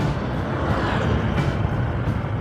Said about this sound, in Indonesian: mobil-mobil tambang